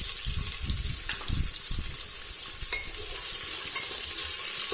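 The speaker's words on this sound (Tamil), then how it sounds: "வெங்காயம் நல்லா பொன்னிறமா வர்ற வரைக்கும் வதக்குவோம்" Sliced onions sautéing in hot oil until golden for chicken biryani, giving a continuous close sizzle with a few heavier scraping stirs early on and a brighter frying hiss toward the end.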